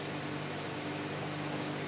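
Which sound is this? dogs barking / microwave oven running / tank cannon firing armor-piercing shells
microwave oven running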